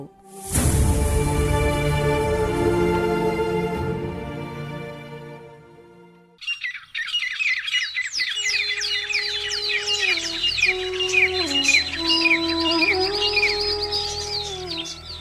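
Birds call at dusk as a sound effect in a radio drama. A long ringing tone fades out first, then bright chirps and twittering repeat over a soft sustained tone.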